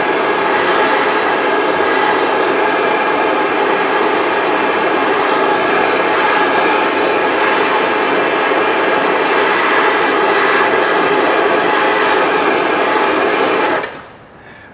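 A torch roars steadily at close range, heating the inside of an aluminum pivot ear on a boat sterndrive's gimbal ring bell housing, a loud continuous broadband hiss that cuts off abruptly near the end.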